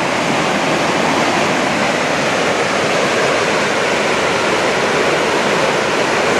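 The Obernach waterfall in a forest pours in a loud, close, unbroken rush of falling water, steady throughout with no talking.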